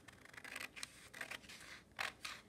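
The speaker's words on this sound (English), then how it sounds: "Okay, so I'm going to cut straight up that line." Scissors cutting paper along a traced line, faint and close: a few short crisp snips and rasping cuts in quick succession, with brief quiet gaps between them.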